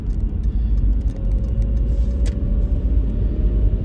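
A car driving through the streets of Saddle Brook, New Jersey, heard from inside as a steady, loud low engine and road rumble, with a few faint clicks and taps above it.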